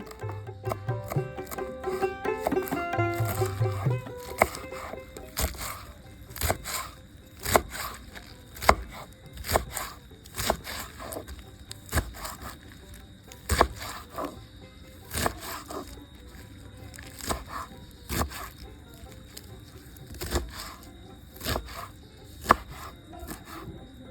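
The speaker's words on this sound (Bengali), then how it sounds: "এবার পুঁইশাকগুলো সুন্দর মতো কুচি কুচি করে কেটে নিচ্ছি।" Steady knife chopping of Malabar spinach (pui shak) leaves on a board, a run of sharp, evenly spaced close taps with a few softer rustling handling sounds at the start, no voices.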